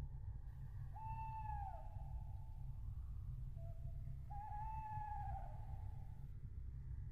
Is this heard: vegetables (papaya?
no